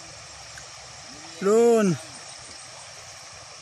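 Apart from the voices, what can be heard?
river water flowing, Pangian river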